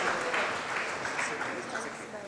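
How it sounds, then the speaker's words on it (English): An audience applauds at the FICCI Frames 2016 inauguration session, a dense, steady wash of clapping from a large crowd that fades slightly toward the end. "big round of applause for our inauguration session"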